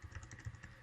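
Quick, soft clicks of fingers typing on a computer keyboard, close by and quiet, in an even run of keystrokes.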